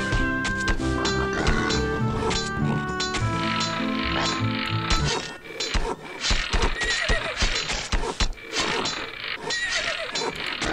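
In the video game Knights and Merchants, a horse whinnies loudly over mechanical game sounds, followed by a run of heavy, rhythmic hoof stomps and clatter.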